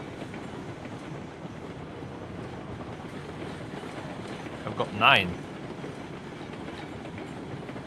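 A steady rumbling train run in the video game Railroads Online with faint clatter continues throughout, while someone talks briefly over it and a short higher whine rises near the middle.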